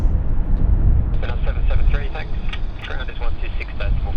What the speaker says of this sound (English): there goes Korean Airlines